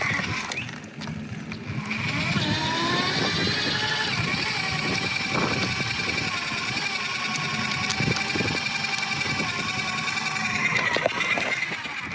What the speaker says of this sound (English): You can hear a little bit of a whine coming from the motor.